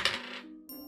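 Dice are rolled during a board game of You Lying Sack, a quick close rattle that rings briefly and fades, followed by a second light clatter.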